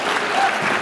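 Brief burst of dense audience applause at a live anniversary show in St. Paul, steady and close, many hands clapping at once with no pause.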